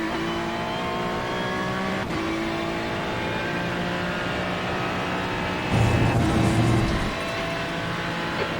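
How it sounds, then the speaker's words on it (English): A race car engine in the iRacing sim drones steadily at high revs, with brief dips as it downshifts, a louder burst of engine roar near the end, and no talk. "Downshifting just an extra time, just to get that little bit of a bite in the corner"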